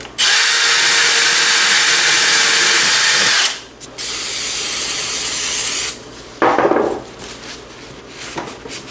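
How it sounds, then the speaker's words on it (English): A 3M gasket cleaner attachment on a power tool scrubs old gasket residue from a Chrysler 3.6L oil filter housing, whirring loud and steady in long bursts with brief pauses and a final shorter run. "I'm just going to clean up around where the old gaskets were with this 3M"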